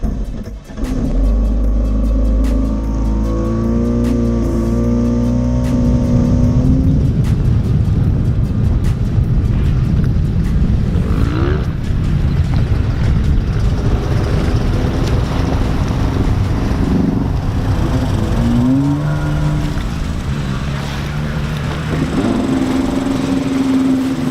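A stand-up jet ski engine starts and revs in shallow water. A loud, steady engine drone carries throughout, with the pitch climbing and dropping as the throttle is worked, over a rush of wind.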